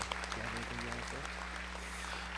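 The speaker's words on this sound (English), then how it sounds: "can we give a round of applause for those students and everyone" Applause for graduating students at a career services graduation, a soft, steady patter of many hands clapping with a voice briefly heard at the start, all under a constant low hum.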